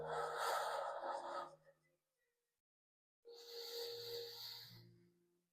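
Two long, slow, breathy exhales during qi gong breathing, close and steady, separated by a second of silence.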